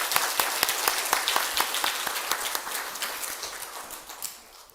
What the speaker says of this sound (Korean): 우리 더 크게 하나님 앞에 영광의 박수를 돌리겠습니다.